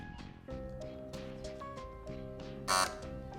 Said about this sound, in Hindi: आजादी टीम ने बजर बजाया।